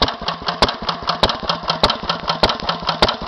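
A 1942 Lister B type 5 hp stationary engine with a large hopper, proper tank and original exhaust runs steadily, giving a loud, close, even chugging beat with sharp periodic exhaust pops and no talking.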